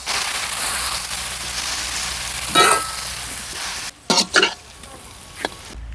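Food frying in a pan with beef, a steady broadband sizzle for about four seconds, then a few sharp scraping or stirring knocks as the pan is worked, ending in quieter crackle.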